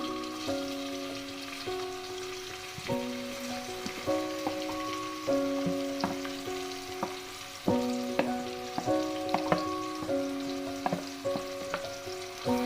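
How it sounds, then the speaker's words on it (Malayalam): Chopped onions frying in spiced oil for fish biryani, a steady sizzle broken up by repeated scraping stirs and tonal clinks, with music running underneath. "ഇനി നമുക്ക് ഈ ഒനിയൻ ജസ്റ്റ് ഒന്ന് ഫ്രൈ ആയി കിട്ടണം."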